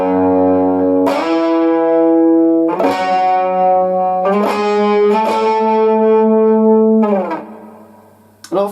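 Distorted electric guitar plays E octaves, several separate sustained notes struck one after another with clear attacks and ringing decay, loud and alone until the last note fades out.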